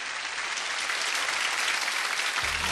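A lecture audience breaks into full, even applause to welcome a speaker, then it cuts off abruptly near the end.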